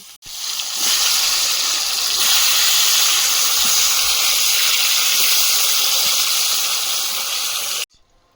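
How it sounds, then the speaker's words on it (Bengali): Eggplant slices fry in hot oil in a pan, giving a loud, steady hiss that runs unbroken for several seconds and then cuts off abruptly near the end. "বেগুনগুলো ভেজে নেব"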